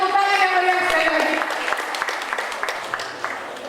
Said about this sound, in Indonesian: Berikan tepuk tangan yang meriah sekali lagi.